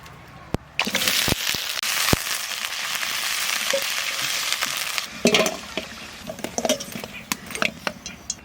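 Food sizzles and fries in a hot pan, a steady hiss with scattered clinks and scrapes of stirring, close and fairly loud.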